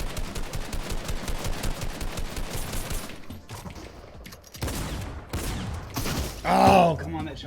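Rapid bursts of automatic gunfire in the video game Fortnite, a dense stream of shots followed by scattered louder blasts, with someone talking over the action.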